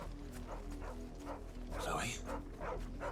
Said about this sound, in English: Oh, look at that little dog.